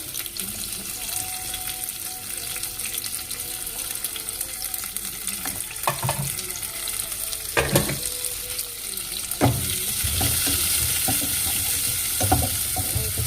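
Capsicum fries in a pan, making a steady sizzle over the whole stretch, with occasional stirring clatters and a brief splash-like burst partway through; no clear talk.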